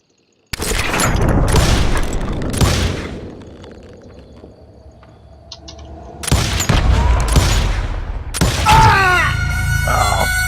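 Revolver gunshots crack during a Wild West duel in Call of Juarez Gunslinger, a few loud sharp bursts with reverberating tails, a quieter lull in the middle, then more shots and ringing, whistling effects near the end.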